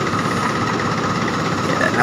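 A vehicle engine idles steadily before a drive, warming so the oil circulates, with a continuous low rumble and faint vibration throughout; voices talk over it.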